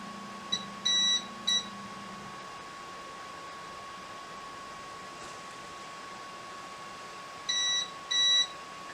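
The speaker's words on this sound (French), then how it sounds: "Et là, vous allez l'entendre biper." Short high-pitched electronic beeps from an Elegoo Jupiter 3D printer in two quick clusters, one near the start and one near the end, over a steady quiet hum.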